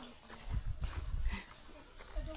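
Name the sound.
horse walking, hooves clip-clopping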